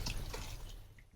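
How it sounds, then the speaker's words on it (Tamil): Water splashes and trickles into a pot of coconut paste while cooking dalcha, a brief, faint pouring sound. "நம்ம ஒரு 1/4 லிட்டர் அளவு தண்ணி ஊற்றிக்கலாம்."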